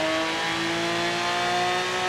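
A car drifting in the racing game Forza Horizon 3, with a steady high engine drone and a tonal whine held continuously at close range, no talking.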